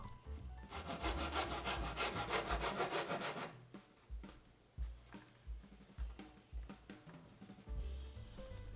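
Hand saw cutting wood along a ruler for a handmade wooden Gundam model: a steady rasping run of quick strokes, then slower, separate back-and-forth strokes, close up and fairly quiet, with no talking.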